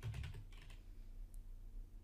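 Typing on a computer keyboard while entering a value into a report display rule in SAS software, a short burst of close keystrokes at the start followed by quieter background hum with no talk.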